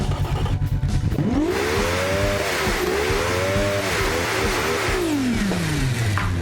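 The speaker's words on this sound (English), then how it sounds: "let's give our new Formula 1 engine a bit of a listen" A Formula 1 engine in the BeamNG driving game revs up and down in long sweeping pitch rises and falls. The note is loud and continuous, with no speech.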